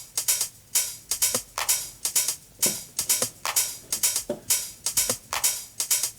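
An Ableton 909 drum kit plays a tight, punchy electronic beat of kick, clap, closed and open hi-hats and a rim shot, repeating in a steady loop with crisp, bright hits.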